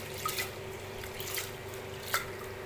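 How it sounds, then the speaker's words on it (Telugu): Lentils are washed in water: quiet sloshing and squishing with a few small drips, close and faint. "ఇంకోసారి అయితే వాటర్ వేసుకొని కడుగుతున్నాను"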